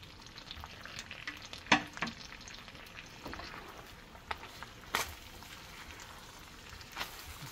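Poblano chile strips frying with ground beef and corn in a pan, a steady crackling sizzle broken by a few sharp pops and spatula scrapes, close and with no talking.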